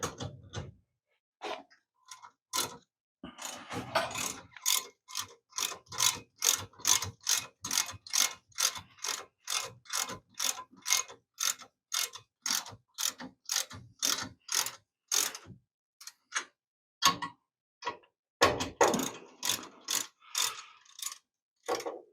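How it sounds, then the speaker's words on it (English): A hand ratchet clicks in rapid, rhythmic bursts, close and crisp, as bolts are snugged up during a tapered roller bearing upgrade on an Austin-Healey Frogeye Sprite, pausing briefly between strokes. "I just want to snug these bolts up and make sure we're still good."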